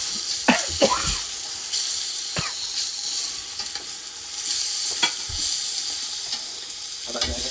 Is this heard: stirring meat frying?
yes